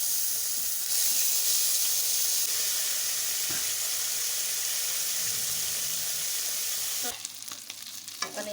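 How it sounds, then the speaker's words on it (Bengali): Fish frying in hot oil gives a steady, loud sizzle that runs for about seven seconds, then breaks into rougher, crackling bursts as the pieces settle into the pan; no one speaks. "গরম হয়ে গিয়েছে, এখন মাছটি দিয়ে দিব।"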